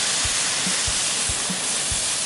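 Dry paella stock and 1.5 litres of water cooking over high heat in a large pan at a solo campsite, giving a steady, dense bubbling hiss with a few soft low thumps, close and alone without talk.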